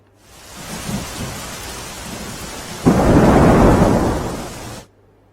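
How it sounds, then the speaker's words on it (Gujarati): Steady heavy rain pours throughout in Mendarda, Junagadh, Gujarat, then a deep rolling rumble of thunder swells in loudly and lingers before cutting off. "જૂનાગઢના મેંદરડામાં ધોધમાર વરસાદ"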